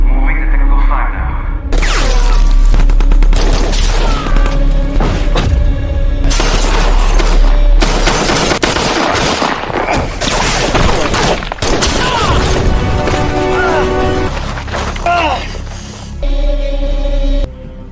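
Rapid bursts of automatic gunfire and booming blasts crackle in a war film firefight, loud and dense, with volleys overlapping shattering impacts and brief gaps between salvos.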